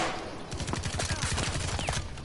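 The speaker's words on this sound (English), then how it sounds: "Who has it so we can't see where we're getting shot from?" Rapid gunfire from a video game firefight forms a fast, steady stream of loud shots lasting a couple of seconds, with no speech over it.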